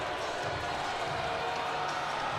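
A hockey arena crowd at a Pee Dee IceCats versus Athens Rock Lobsters game gives a sustained, dense roar of murmuring and reaction, steady and enveloping throughout.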